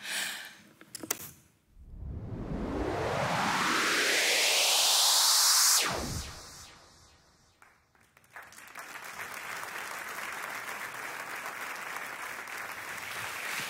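A church congregation breaks into applause during a sermon, soft and somewhat distant, following a loud rising electronic sweep that cuts off abruptly.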